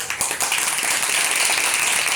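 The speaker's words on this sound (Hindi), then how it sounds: "तालियों से बजाओ भाई।" A crowd at a school Louis Braille Day event claps and applauds steadily for a couple of seconds, a dense wash of hand claps filling the room.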